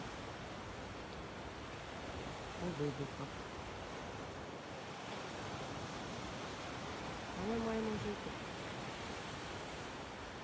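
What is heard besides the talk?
sea waves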